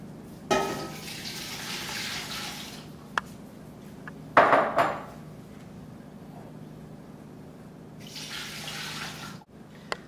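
Water runs from a tap into a pot in a few separate pours, six cups in all, with a metallic clank in between and quiet pauses.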